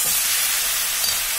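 Dried loitta fish curry with Malabar spinach seeds being stir-fried in a pan, a steady close sizzle with soft stirring under it, no voices.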